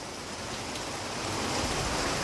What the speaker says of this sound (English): So it's raining at work.